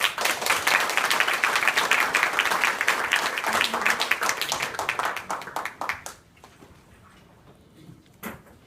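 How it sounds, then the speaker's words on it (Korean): Audience at a press conference for a community amateur orchestra festival giving a big round of applause: loud, dense clapping for about six seconds, tapering to scattered claps and quiet room noise, with one last clap near the end. "여러분들의 크고 힘찬 박수가 필요합니다"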